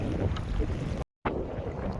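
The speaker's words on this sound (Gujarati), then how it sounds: "તો પવન ને મોજો છે" Wind and waves at sea aboard a fishing boat, heard as loud, gusty roaring and buffeting close to the microphone, briefly dropping out midway before resuming.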